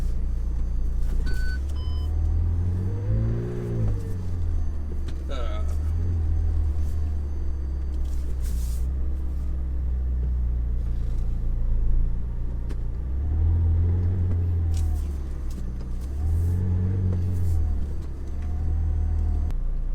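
A car rolls and maneuvers into a parking spot with a steady low engine rumble and swells of motor noise. Faint high beeps and clicks sound over it, and there is no talk.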